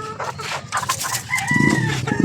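A Rhode Island Red chicken crows up close and then breaks into several short clucks, loud and clear with no talking.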